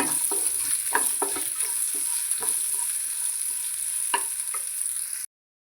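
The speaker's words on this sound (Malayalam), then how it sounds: "സവാളയുടെ നിറം മാറുന്നത് വരെ വഴറ്റണം." Onions and green chillies sautéing in a pan for brinjal buttermilk curry, a steady hiss of frying punctuated by irregular scrapes and taps of a spoon, close and moderately loud, with no talk.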